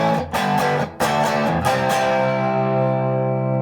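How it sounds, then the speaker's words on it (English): A Fender Player II electric guitar played through distortion with a little drive: a few quick strummed chords in the first two seconds, then one chord left ringing and slowly fading, loud and close with no talking. "distortion, a little bit of drive."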